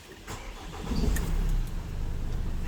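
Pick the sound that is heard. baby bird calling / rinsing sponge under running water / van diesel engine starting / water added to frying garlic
van diesel engine starting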